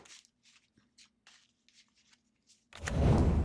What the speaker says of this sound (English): I'm gonna have to take a shuffle on this, I think.